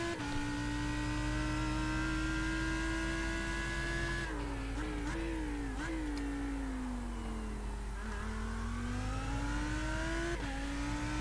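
A Lamborghini Huracan GT3 EVO race car in iRacing around Eau Rouge, its engine howling loud and close, climbing through the gears with several sharp shifts and pitch dips, continuous without speech.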